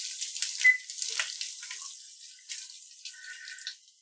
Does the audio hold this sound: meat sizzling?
yes